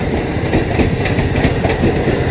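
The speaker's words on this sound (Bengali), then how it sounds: "ট্রেন আসছে, আর সিগন্যালে দাঁড়িয়ে আছি" A train passes a railway crossing near Habra in West Bengal with vehicles waiting at the signal, a loud, continuous rumble with steady clickety-clack from the wheels close by.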